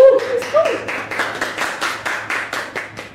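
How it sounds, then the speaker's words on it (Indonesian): A small audience claps in a brisk, even rhythm, about a dozen distinct crisp bursts close by, with a brief voice at the very start. "Tepuk tangan."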